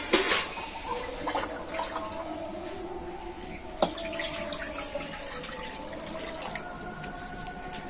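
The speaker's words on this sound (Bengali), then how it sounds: "আর এবার আমি কড়াতে দিয়ে দেবো জল" Water pours steadily into a wok, a continuous splashing stream that runs close and moderately loud throughout, with a brief clatter near the start.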